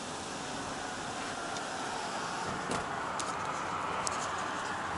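A Mercedes GLC 250's steady engine hum mixes with road and wind noise through open windows, with a few faint clicks and passing sounds.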